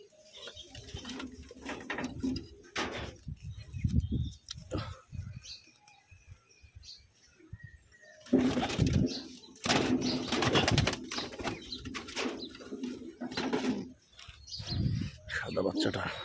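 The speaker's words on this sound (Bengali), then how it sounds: "একে একে কবুতর সব ফ্লাই চলে গেল" Pigeons released from the hand burst into flapping flight in loud, close bursts, with soft cooing in between, while someone talks over the sounds.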